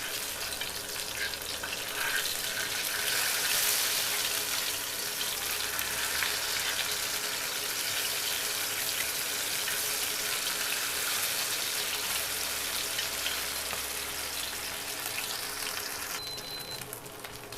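Masala-coated fish fries crisp in a shallow layer of oil, giving a steady, dense sizzle and crackle that runs continuously and fairly loud throughout.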